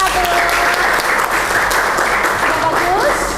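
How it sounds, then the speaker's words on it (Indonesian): Students in a high school classroom applaud a presenting group, a dense burst of clapping filling the room, with a few voices calling out over it. "Beri tepuk tangan untuk kelompok 1."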